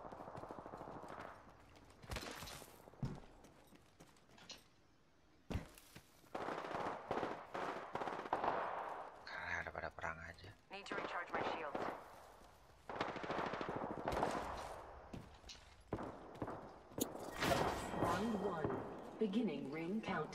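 Gunfire in an Apex Legends match, with bursts of rapid automatic shots and single cracks scattered between stretches of game sound and chatter, under players talking.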